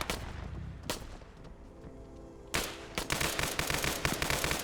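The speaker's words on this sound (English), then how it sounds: "Skelly's down, firing at Yanni." Automatic gunfire in a video game rattles out in loud, sharp bursts, with a short lull before dense, sustained firing fills the end.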